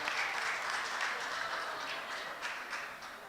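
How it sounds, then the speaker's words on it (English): Applause fills a boxing press conference for the Ryan Garcia vs Javier Fortuna bout as young men gather for a photo, a dense, steady patter of many hands held at an even level for several seconds. "A little round of applause for these young men."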